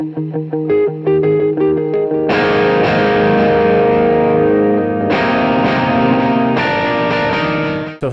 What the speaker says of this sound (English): So with all that distortion,